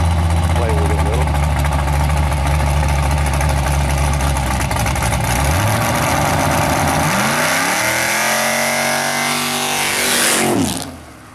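A car engine, freshly got running, idles roughly, then revs up in repeated rising blips toward a high, loud climb before cutting off abruptly; the engine sits up close and dominates.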